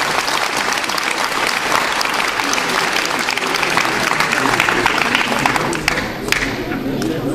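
Audience applause after a children's karate kata demonstration, dense steady clapping from a crowd that holds for several seconds before thinning slightly near the end.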